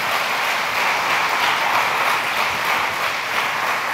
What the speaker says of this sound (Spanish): Dale un aplauso al Señor, Él merece.